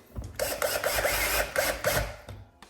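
A screw is driven into a Husqvarna chainsaw handle, a close, rapid run of ratcheting clicks and scraping bursts lasting a couple of seconds, with no talk.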